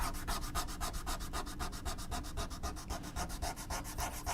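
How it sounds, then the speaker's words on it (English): A sand eraser rubs a smudge off a paper card with fast, steady back-and-forth scrubbing strokes, close and fairly loud, continuing evenly throughout with no talking. "if you smudge your card like I just did, and like I do all the time, just grab a sand eraser"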